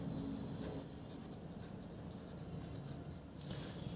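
A pencil or pen scratching steadily on paper while a Class 6 maths problem is worked out, faint and continuous, with no talk.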